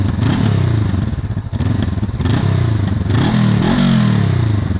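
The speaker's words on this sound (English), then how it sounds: "Straight out of the box, that exhaust has a beautiful note to it." Stock exhaust of a 2021 Honda CB500X motorcycle, loud and close, revving in repeated rising and falling surges with some clatter and scraping, no talk.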